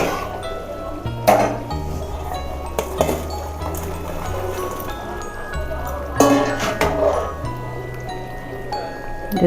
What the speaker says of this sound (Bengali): আলুগুলো সিদ্ধ হয়ে গেছে, এবার কোপ্তাগুলো দিয়ে দেবো।